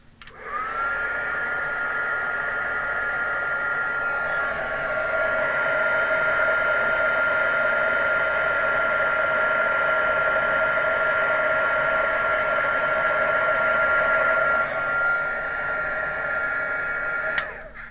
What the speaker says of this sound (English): Take my heat tool, and I'm sorry it's the noisy one